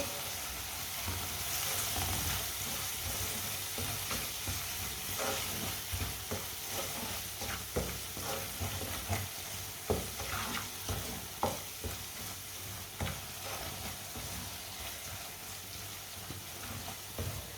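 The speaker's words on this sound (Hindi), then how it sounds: "सब मसालों को 1 मिनट के लिए पका लेंगे" Spices — red chilli, crushed red chilli and turmeric — sizzle and fry in a pan for a sabji, a steady crackling hiss with scattered stirring scrapes and clicks, close and continuous with no voices.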